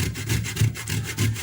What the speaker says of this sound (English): I'm grating them so gently, as you can see, to have the zest only